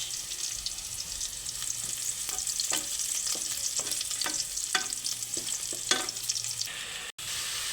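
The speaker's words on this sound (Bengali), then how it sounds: "প্রথমে পরিমাণ মতো তেল এবং আমি পেঁয়াজ কুচি দিলাম তার সাথে দিয়ে দিচ্ছি দুটো তেজপাতা দুটো দারচিনি এবং তিনটে এলাচ" Chopped onions fry in oil with bay leaves, cinnamon sticks and cardamom pods, giving a steady close sizzle punctuated by repeated scraping stir clicks, no speech.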